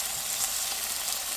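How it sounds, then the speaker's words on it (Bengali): Chicken chapli kebabs fry in a pan, giving a brief, steady, even sizzle of hot oil with no voices. "এভাবে আমি সব কাবাবগুলা ভেজে নেব।"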